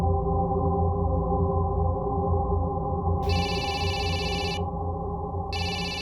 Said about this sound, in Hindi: संदीप जी का फोन